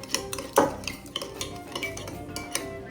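Pepper and Himalayan salt seasoning mixed in a bowl while making corn ribs: a utensil clinks and scrapes against the dish in irregular taps, one sharper knock early, close and fairly quiet.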